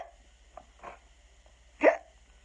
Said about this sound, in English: Had the hiccups.